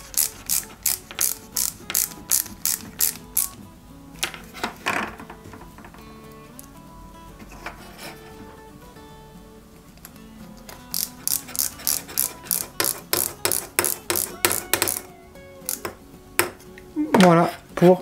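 Small screws are driven into a Peugeot 205 GTI 1.9 scale model, producing bursts of crisp, rapid ratcheting clicks with quieter pauses between runs, close and fairly faint.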